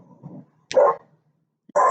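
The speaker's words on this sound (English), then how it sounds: "You hear dogs barking in the background uncontrollably" Dogs barking somewhere nearby: two loud, short barks about a second apart, following a low, faint whine, with nothing else heard.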